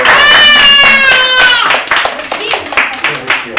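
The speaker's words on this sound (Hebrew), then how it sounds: "מה עם מחיאות כפיים לקוסם?" Children's birthday party audience applauds a magician, a brief burst of close hand clapping following a raised voice.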